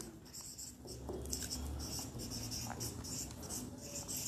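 Marker or chalk scratching steadily across a board in an English lecture, a continuous dry scraping of strokes at close range with no talking.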